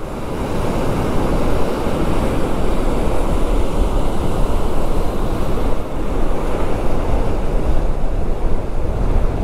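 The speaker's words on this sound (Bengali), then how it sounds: "আর প্রচণ্ড জোর হাওয়া চলছে।" Strong Himalayan wind roars steadily over fast-rushing river water near Losar in Spiti, a loud, continuous broadband rush with gusty buffeting against the microphone throughout.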